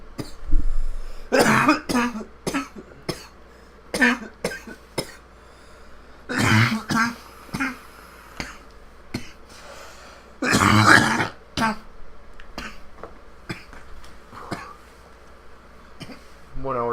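Repeated coughing and throat clearing from a person after smoking during a session, bursts scattered across the stretch at close range, with chatter between some fits.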